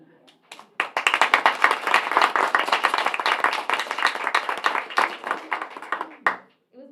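An audience at a board of directors meeting breaks into sustained clapping, a dense burst of many hands lasting about five seconds before tapering off abruptly, with a brief voice near the end.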